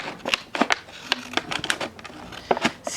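Scissors cutting through material to trim an orchid pot for a hydroponic setup, heard as a series of sharp, close snipping clicks in an irregular rhythm, with no voices.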